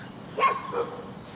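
A couple of dog barks sound at moderate distance over a faint steady background hum.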